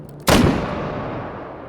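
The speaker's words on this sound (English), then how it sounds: "Bammo! First shot!" A single loud rifle shot in the VR shooter H3VR on a desert range, a sharp close crack followed by a long rolling echo that slowly decays.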